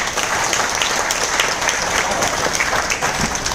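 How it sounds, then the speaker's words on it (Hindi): An audience at a business seminar applauds loudly and steadily, a dense wash of clapping that holds for several seconds without a break. "जोरदार ताली"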